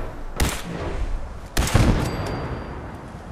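Two loud gunshot bursts aimed at a turret in the video game Fallout 4 ring out about a second apart over a noisy ambient background, with a faint high electronic tone afterward.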